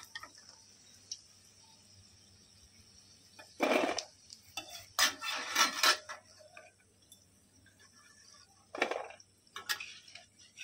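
Fried chicken pieces for chili chicken are lifted out of a pan of hot oil, giving a few bursts of sizzling and clattering, close and moderately loud, separated by quieter stretches with faint clicks.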